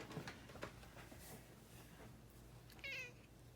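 A cat meows once, softly and fairly close, against a quiet room background with a few faint rustles.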